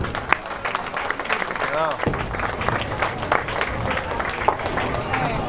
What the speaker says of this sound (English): Appreciative applause from the crowd.